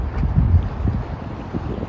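Steady wind by a river buffets the microphone with a low, rumbling roar, continuous and fairly loud, with no other clear sounds standing out.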